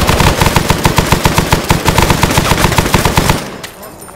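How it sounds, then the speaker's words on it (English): Rapid automatic gunfire in a video game, a loud sustained burst of evenly spaced shots aimed through a wall, cutting off abruptly near the end with only faint background noise after. "shoot through the fucking wall to your front right."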